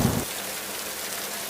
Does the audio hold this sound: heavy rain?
yes